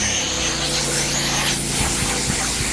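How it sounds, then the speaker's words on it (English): A Tom's Mini Mite airless paint sprayer running during RV bodywork, giving a continuous loud hiss with a steady motor drone beneath and a few faint clicks near the end. "we're going to be using Tom's Mini Mite airless sprayer"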